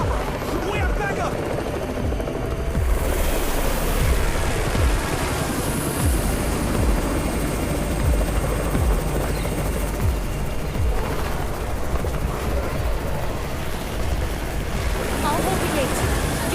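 A helicopter's rotor chops steadily throughout in the video game Undawn at Redwood Outpost, a dense low rumble mixed with wind-like roar and scattered game effects, loud and continuous.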